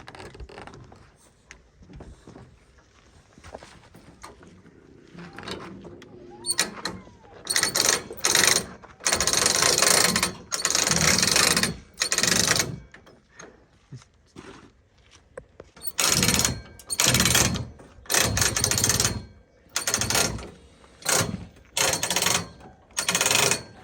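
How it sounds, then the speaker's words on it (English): A ratchet strap being cranked tight during a hot tub rescue: bursts of loud, rapid clicking come in repeated strokes with short pauses between them, close by and alone after a quieter stretch of shuffling. "Just that ratchet strap over there."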